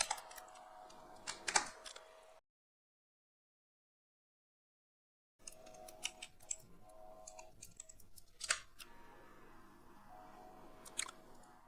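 Someone types on a computer keyboard, with scattered, quiet, sharp key clicks in short bursts, a few seconds of complete silence midway, then more sparse tapping over faint room noise.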